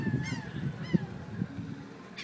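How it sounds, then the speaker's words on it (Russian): Gulls call over the ocean by a pier, several short harsh cries with rising and falling pitch heard at moderate distance against a steady outdoor background of wind and murmur. "Чайки кричат."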